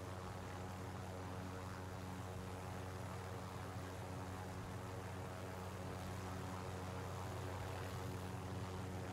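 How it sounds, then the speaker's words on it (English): A helicopter in the video game Call of Duty Warzone flies steadily, its droning engine and rotor hum continuous and fairly faint throughout, with no talk. "Another helicopter."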